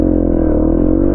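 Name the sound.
Yamaha XTZ125 motorcycle pulling away in low gear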